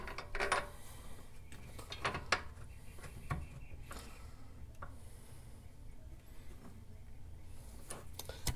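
Ratchet bolting a subframe onto a Mk5 Volkswagen R32 while control arm bushings are installed, faint scattered clicks and metallic clunks at irregular intervals against quiet room noise.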